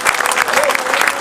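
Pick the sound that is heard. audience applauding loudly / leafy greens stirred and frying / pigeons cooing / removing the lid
audience applauding loudly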